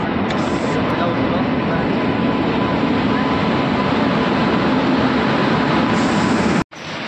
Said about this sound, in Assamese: বহুত সময় ৰখাৰ পিছত আহি গ'ল ফাইনেলি আমাৰ ট্ৰেইনখন এখন হ'ল কাঞ্চনজংঘা এক্সপ্ৰেছ